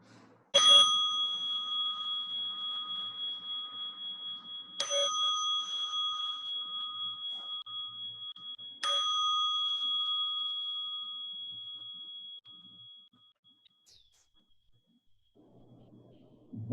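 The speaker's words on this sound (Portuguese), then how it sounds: "ele vai começar a prática, 3 batidas no sino" Three clear strikes on a meditation bell, evenly spaced about four seconds apart, each bright ring sustaining and slowly fading, the last decaying into near silence before a faint sound at the very end.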